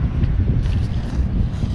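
Wind gusts across a microphone outdoors on a chilly, frosty late-November morning at a roadside attraction in Steinbach, Manitoba, a steady low rumbling buffet that stays loud throughout with no voices.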